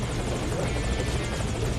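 Helicopter in the stealth action game Metal Gear Solid V: Ground Zeroes, a loud continuous rotor thrum and engine drone, steady and close, heard alone.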